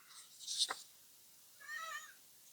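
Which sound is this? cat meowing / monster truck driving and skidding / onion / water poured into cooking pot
cat meowing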